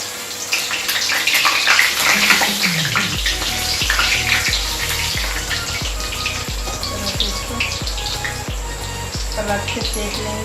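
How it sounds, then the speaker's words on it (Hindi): Round jackfruit kofta balls go into hot oil in a pan on a gas stove, giving a loud, steady sizzling hiss with a regular low thumping pulse underneath throughout. "ऐसे तेल में डालेंगे गोल लड्डू के"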